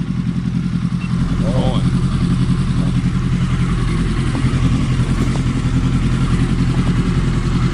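A 1980 Suzuki GS1100 motorcycle rides past, its steady mid-range engine drone loud and close throughout, with faint clatter on top and no clear rise or fade.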